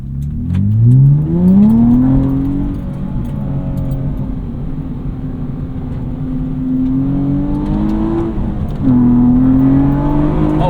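A track-prepped Acura TL Type S engine pulls hard at wide open throttle, its loud, close drone climbing steadily in pitch, holding, then dropping briefly at a shift before rising again.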